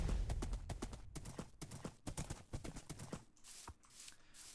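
Horse hooves clip-clop in the Minecraft video game, a quick run of crisp, evenly spaced strikes close and loud, then thinning to a few sparser clops near the end.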